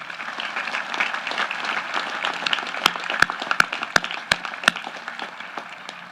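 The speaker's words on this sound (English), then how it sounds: "Please join me in a round of applause congratulating the class of 2023" A high school graduation audience gives steady applause for the graduating class, a dense, sustained wash of clapping, with a few sharp louder claps standing out near the end.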